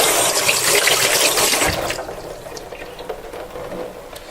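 Running tap water pours steadily over a makeup brush held head-down for rinsing, loud at first and then easing into a thinner splashing stream.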